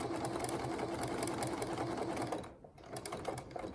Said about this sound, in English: It's going to bar tack at the top, and then zigzag back down the right-hand side of the buttonhole.